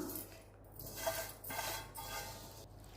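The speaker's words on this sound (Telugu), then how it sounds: "ఒకసారి వీటి ముక్కలన్నింటినీ బాగా కలపండి" Mango pickle pieces being mixed with oil in a bowl, soft wet stirring with faint clinks of a spoon, several gentle strokes, quiet and close.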